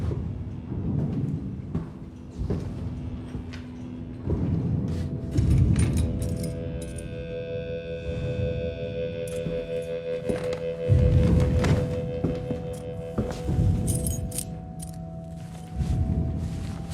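Keys jangle and clink in short bursts over several seconds inside an old storage bay, with a low rumbling bed and brief silent gaps between handlings.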